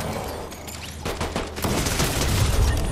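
Gunfire in the Fortnite video game: a loud, rapid burst of shots, dense rattling fusillade, continuous over a few seconds.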